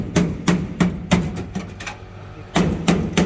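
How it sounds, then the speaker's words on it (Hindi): Hammer blows on the rusted, crumbling steel floor of a Hindustan Ambassador car under restoration, sharp metallic knocks in a quick uneven series with a short pause before the last few strikes, close and loud. "दिख आपको साफ रहा है, लेकिन जैसे ही इस पर हथौड़ी पड़ रही तो पूरा झड़ रहा है।"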